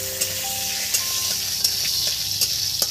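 Two dried chillies sizzle in hilsa fish oil, giving a steady frying hiss broken by sharp crackles and pops at irregular intervals. No one speaks.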